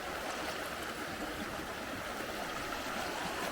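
The Guadalquivir river flows steadily through Ronda, Spain. The water makes a constant, even rushing wash at moderate level with no breaks and no voices.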